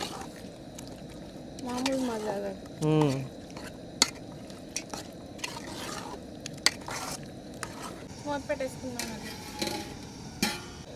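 A spoon stirs gongura chicken pulao in a pot, making scraping and clinking strokes against the metal over a low simmer, while a person talks through much of it.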